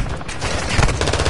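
Rapid automatic gunfire in a first-person shooter, a loud close burst of overlapping shots lasting about a second.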